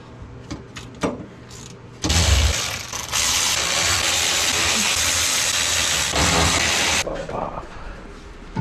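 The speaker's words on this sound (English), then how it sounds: "Get the electric ratchet on them." An electric ratchet works on driveshaft bolts during a differential removal, a loud continuous whirring hiss lasting about five seconds, framed by scattered clicks and light handling noises.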